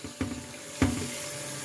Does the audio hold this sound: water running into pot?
yes